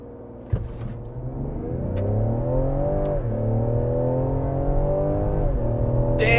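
A 2020 Ford Explorer ST with a twin-turbo 3-liter V6 accelerates hard, its engine note climbing steadily through the gears, with a brief dip at a shift and a loud, continuous drone heard from inside the cabin.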